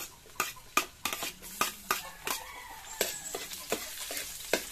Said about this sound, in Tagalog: Dahil nag-brown na kaunti, lalagyan na natin na sibuyas.